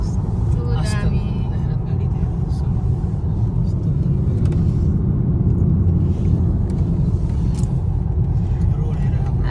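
Vehicles on a village road make a constant loud rumble of traffic and engine noise that never lets up, with voices faintly mixed in.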